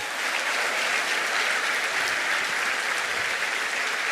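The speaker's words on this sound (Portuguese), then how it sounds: "Aplauda esse Deus maravilhoso." A church congregation applauding during an evening Sunday service, dense continuous clapping from many hands filling the room at steady loudness with no talk over it.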